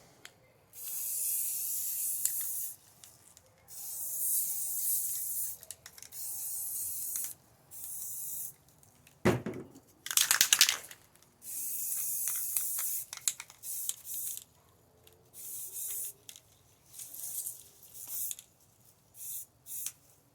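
Green spray paint being sprayed onto the second side of an AR rifle: repeated close hissing bursts of an aerosol can separated by short pauses, with one louder, harsher burst midway.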